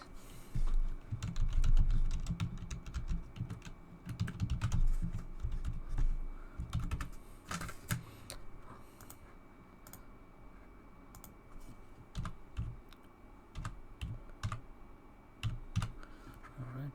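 Typing on a computer keyboard while a network connection is being set up, with clustered key clicks in uneven bursts that are close and moderately loud over a low background hum.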